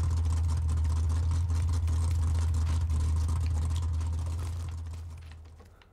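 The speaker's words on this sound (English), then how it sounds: "the driver can hear the car running after you stop the car" A car engine runs steadily in PUBG with a deep, droning hum and rattle, loud and constant before fading out in the last second.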